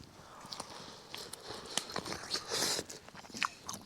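Crunchy bites and chewing on corn on the cob, eaten at a campsite on a cold night, with repeated close crisp crunches and wet mastication sounds, and no talking.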